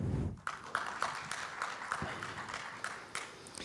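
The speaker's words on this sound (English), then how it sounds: "can I have a round of applause for Biopolis" A small audience claps in a conference meeting room, a steady patter of moderate applause that holds evenly for a few seconds without voices over it.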